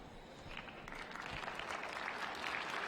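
Fans from Slovenia applaud and cheer their skaters at a junior figure skating competition, a soft steady wash of clapping from a distant crowd in an arena.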